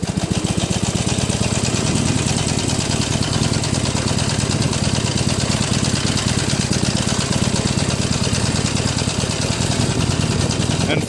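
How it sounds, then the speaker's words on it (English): A Harley-Davidson Iron 883N motorcycle, low on fuel and running on reserve on a jungle trek, idles with a steady, loud, close rumble that continues without a break. "here starts the engine"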